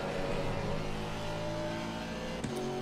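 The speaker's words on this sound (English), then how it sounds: "The noises the car makes through the corkscrew." GT4 race car engine in Assetto Corsa through the corkscrew, a steady droning mid-pitched tone holding fairly constant, then a brief shift and a short blip near the end, heard alone without talk.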